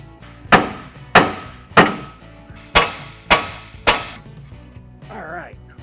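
Hammer blows freeing the steering spindle on a 1962–67 Chevy II Nova: six loud, ringing metallic strikes at roughly even intervals, close by, followed by a brief fading clatter.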